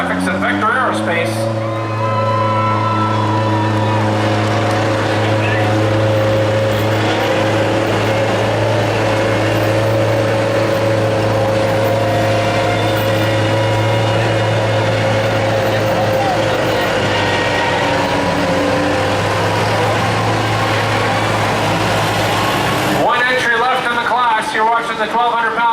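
Modified 1,200-pound lawn tractors pulling at an exhibition, a loud steady engine drone holding for over twenty seconds with a crowd and talk faintly behind, then cutting off near the end.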